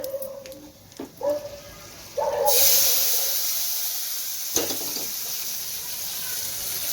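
A few clinks of a pan, then a sudden loud sizzling hiss as hot tempering with red chilli powder hits kadhi, fading slowly but still crackling.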